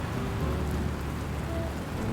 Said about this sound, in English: the rain plopping and slapping on the ground